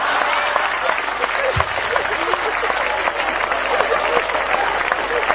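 A comedy show audience bursts into steady, full applause that fills the room, with a voice faintly present beneath the clapping.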